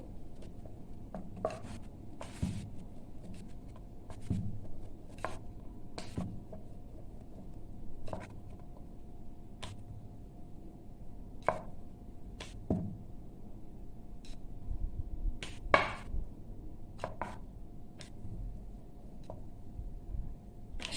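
Dough for coconut karanji being rolled out with a rolling pin, soft rolling rumbles broken by light clicks and taps of the pin on the board, quiet and close.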